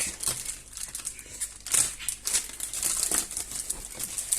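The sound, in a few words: opening a parcel box of a robot vacuum cleaner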